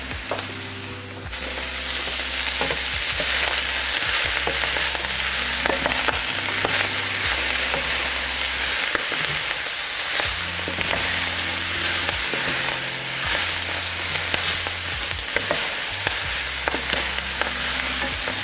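Onions and Brussels sprouts fry in olive oil in a pan, giving a steady, loud, continuous sizzle with occasional crackles and pops and no talk.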